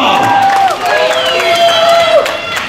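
Audience at a live Belarusian New Year's Eve show applauding and cheering, a loud, dense wash of clapping and shouts throughout, with a voice calling out over it.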